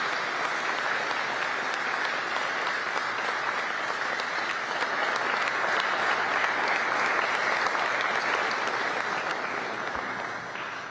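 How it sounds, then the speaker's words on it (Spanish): Sustained applause from a large audience at a Korea–Peru MOU signing ceremony, a steady, dense wash of clapping holding evenly for the full stretch and easing slightly at the end. "네, 큰 박수 올려주시기 바랍니다"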